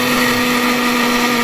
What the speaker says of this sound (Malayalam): കുറച്ച് വെളുത്തുള്ള ഒന്ന് ചെറുതായിട്ട് വറുത്തെടുത്തിട്ട് മിക്സിയിലിട്ട് അരച്ച് പേസ്റ്റ് ആക്കുക